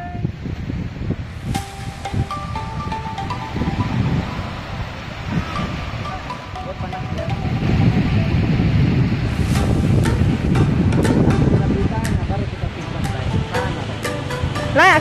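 Wind buffets the microphone and surf rolls in steadily at Pohon Batu beach in Labuan, a loud continuous roar of waves and gusts swelling midway, with people speaking Malay nearby at times.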